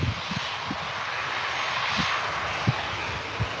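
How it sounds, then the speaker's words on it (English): EasyJet Airbus A321 jet engines at Birmingham airport, a loud, steady broadband roar that sounds fairly close and holds through the whole stretch, with no talk over it. "Check out this A321 EasyJet now."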